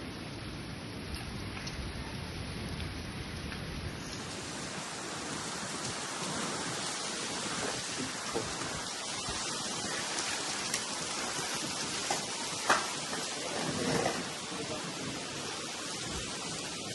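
Heavy rain with strong wind lashing an Indian Oil petrol pump during a sudden pre-monsoon storm: a dense, steady roar of downpour and gusts, with a few louder bursts near the end and no talking.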